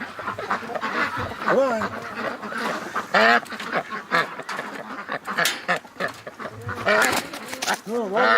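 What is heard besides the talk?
ducks quacking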